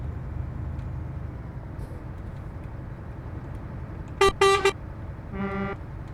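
Truck horn mod sounding on an old-school Scania 1 series truck in Euro Truck Simulator 2: two short loud honks, then a softer, lower horn blast, over a steady engine rumble.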